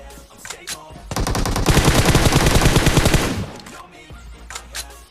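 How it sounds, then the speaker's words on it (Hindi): A long, rapid automatic burst sprayed in the battle royale game BGMI, loud and close for about two seconds, with a few scattered single shots before and after. "फ्री फायर देते घुसता हूँ मैं"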